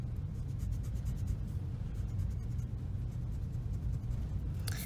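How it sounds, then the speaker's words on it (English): A pencil eraser rubs back and forth over paper in a perspective drawing, a steady close scratchy scrubbing with quick repeated strokes that runs throughout at moderate volume, with no talk. "I would erase in between there."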